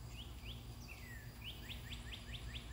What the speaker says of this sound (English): it's a bird, get over here